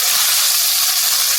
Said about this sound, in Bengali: এখন পেঁয়াজটা ভাজা দিচ্ছি